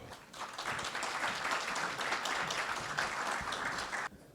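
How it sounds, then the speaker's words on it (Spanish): A conference audience at a national private-security congress claps in a sustained round of applause, dense and even for about four seconds before stopping abruptly. "Recibámoslos, por favor, con un fuerte aplauso."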